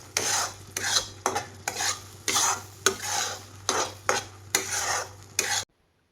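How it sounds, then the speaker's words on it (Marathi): A mango barfi mixture is stirred over a medium flame in a thick-bottomed kadai: about ten rhythmic scraping strokes, close and loud, with a faint sizzle between them and no talking. "मध्यम गॅसवरती ना मी हे मिश्रण असं एकसारखं हलवून घेणार आहे."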